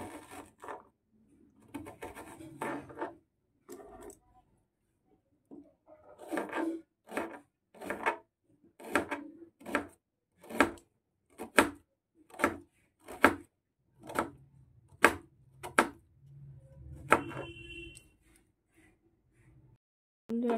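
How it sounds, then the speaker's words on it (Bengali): A knife cuts onions into thin slices on a board, giving a steady run of crisp, evenly spaced chops, close and fairly loud in a quiet kitchen. "প্রথমে পেঁয়াজগুলোকে কেটে নেব।"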